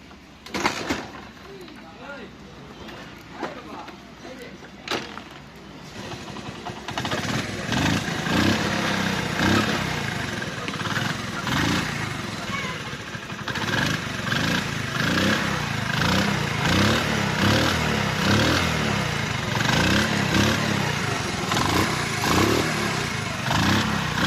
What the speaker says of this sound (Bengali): বাইকটি আপনাদেরকে আমি স্টার্ট দেখাবো বাইকটির সাউন্ড